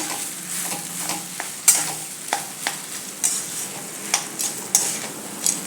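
Green chili paste sautéed in a little oil over low heat, with a soft sizzle under repeated sharp scrapes and taps of a spoon stirring in the pan.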